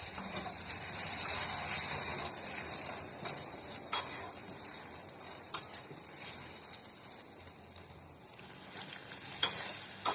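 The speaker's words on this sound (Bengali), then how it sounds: "তো আলুটা আমি এভাবে ভেজে নেব" Potatoes fry in a pan for begun masala, a faint, even sizzle with occasional light taps and scrapes of a utensil against the pan.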